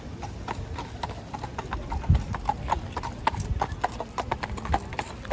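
Horse hooves clip-clop on a London street in a steady, brisk rhythm, fairly close, with city background noise and people talking.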